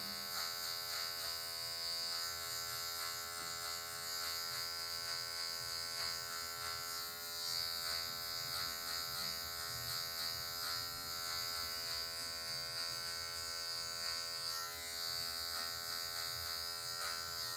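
An electric hair clipper buzzes steadily and close throughout a mid fade haircut, with a constant high whine that shifts only slightly as it works along the hair.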